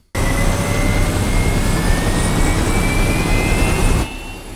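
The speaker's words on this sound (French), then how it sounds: "c'est en train de démarrer un putain d'avion" A jet airplane engine spooling up in a scene from the TV series Pluribus, starting abruptly into a loud, sustained roar with a rising whine layered on top, then dropping off sharply near the end.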